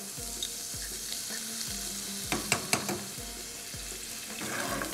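Butter and honey sizzle in a pan on the stove, a steady crackling fry punctuated by repeated utensil scrapes and stirs, with a few sharper clinks midway; no talking.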